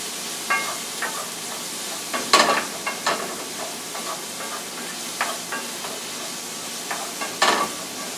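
Onions frying in a pan for a salmon stew, a steady close sizzle broken by repeated stirring scrapes and clatters, with no talking.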